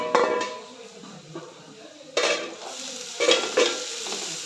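Onions being sautéed for biryani in a pan, a soft sizzle under stirring and utensil scrapes, with a few sharper clanks of a spoon against the pan at intervals.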